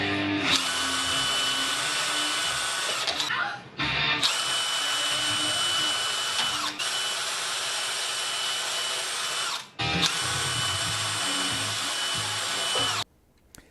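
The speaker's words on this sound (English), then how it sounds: "And then I drilled holes where they will eventually fasten to the shield." A power drill boring holes for fittings that fasten to a handmade wooden Viking shield, whining loudly and steadily in long runs with a few short pauses between bursts.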